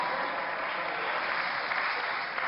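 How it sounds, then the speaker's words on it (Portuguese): An audience claps loudly on the stage of the Portugal Tem Talento 2011 talent show, a dense, even wash of applause that holds steady throughout with a light crowd murmur. "Uma grande salva de palmas!"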